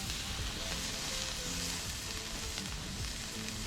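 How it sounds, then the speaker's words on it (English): Deer backstrap sears on a grill, giving a faint, continuous hiss of sizzling beneath a low rumbling background hum. "Let me just sear this back side a little bit."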